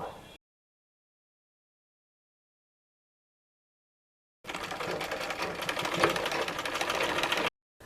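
A sewing machine stitches the hem of a long sleeve, running steadily and close for about three seconds after a long silence, with no talk.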